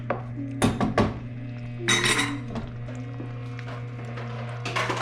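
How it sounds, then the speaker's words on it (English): Marinara pasta is stirred in a pot, with metallic clinks and scrapes of a utensil against the pot in short bursts over a steady low hum from the stove. "You do have to come over here and stir the thing every once in a while just to make sure it doesn't stick to the pot."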